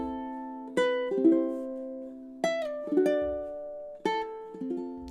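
A ukulele plays a chord melody of "House of the Rising Sun" fingerstyle with the thumb, three sparse groups of plucked chords ringing out and decaying, close and quiet with silence between.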